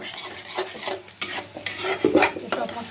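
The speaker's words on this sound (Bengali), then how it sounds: "সব মশলা একটু ভেজে তারপর আমি টমেটোটা দেবো" Chili powder, turmeric and salt frying in a pan, stirred with a utensil that scrapes and taps the metal in quick, irregular strokes over a crackling sizzle; no voices.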